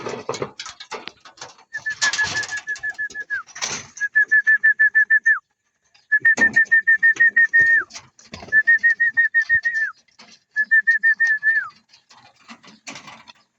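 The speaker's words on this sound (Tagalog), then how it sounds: "Papasukin na natin yung ating mga ibon." Racing pigeons entering their loft give repeated cooing, whistled calls in short bursts, close by, with soft rustling and flapping between the calls.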